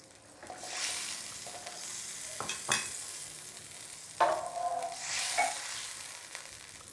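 Food with tempe sizzles and bubbles in a pan, with a few soft clinks and scrapes of stirring over the steady frying hiss.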